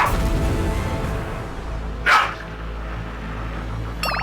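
A mother dog barks and snarls aggressively at her puppies, with loud, close, continuous barking and growling throughout and a sharp yelp near the middle.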